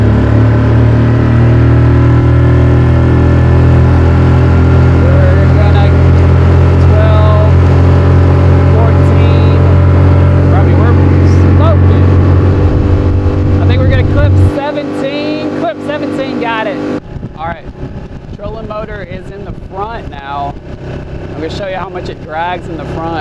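A jon boat outboard motor roars at full throttle on a speed run with the trolling motor at the back, steady loud droning, the pitch shifting as it planes out, with someone talking over it.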